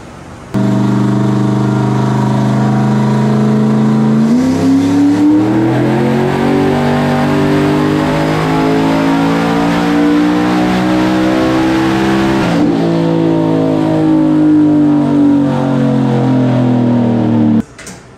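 Shop car engine on a dyno, loud and close: a sustained high-revving roar that climbs in pitch, holds at full throttle for several seconds, then eases slightly before cutting off abruptly, with no talk over it.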